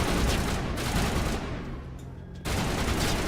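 Gunfire in Mass Effect, rapid volleys of shots in dense bursts, a brief lull, then the firing resumes loudly, no voices.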